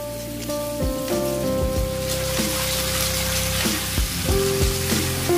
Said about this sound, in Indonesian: masukkan daun bawang. Aduk-aduk masak kembali sebentar sampai daun bawang sedikit layu